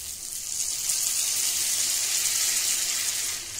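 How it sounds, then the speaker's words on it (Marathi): Water splashed onto stuffed ridge gourd in a hot pan gives a loud, continuous hissing sizzle that holds steady for a few seconds and then eases slightly, close by with no talking. "यावर पाण्याचा अगदी नॉर्मल असा शिपका मारायचा"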